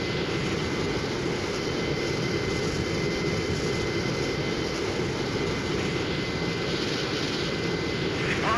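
Jet aircraft engine in the flight combat game Strike Fighters 2, throttled back to a steady, constant roar and whine that holds evenly at moderate level with no break.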